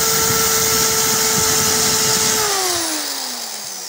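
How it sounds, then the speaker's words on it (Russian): A drill bit bores into glass kept wet with water, starting at an angle: a loud, steady motor whine with a sustained high tone that drops in pitch and fades as the drill winds down near the end. "Сперва надо угол засверлить, чтобы оно не скатывалось туда влево-вправо."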